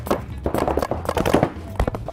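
Paintball guns firing in a game, a rapid burst of sharp pops and cracks packed close together over two seconds, loud and near, with some voices mixed in.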